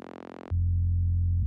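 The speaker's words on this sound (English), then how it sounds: "It's actually a crunch bass," A crunch bass synth in an EDM future rave production, starting with a brief buzzy, harmonically rich tone, then dropping into a loud, sustained, deep bass note that holds steadily.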